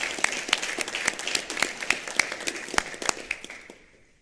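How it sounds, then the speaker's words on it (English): An audience at a meeting gives a round of applause, a steady patter of many hands clapping at moderate loudness that tapers off and fades out near the end. "Let's give a round of applause to Austin Acosta"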